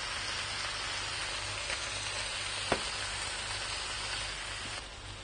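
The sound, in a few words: broccoli stirred into hot mixture in pan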